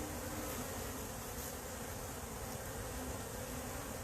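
Honey bees buzz steadily around a hive in a dense, continuous drone with no talking.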